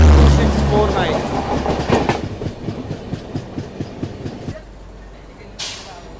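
The Karnataka Sampark Kranti Express, train 12649, rolls past on Indian railway track, a loud rumbling wash giving way to a regular clickety-clack of wheels over rail joints that fades, with a brief burst of noise at the end.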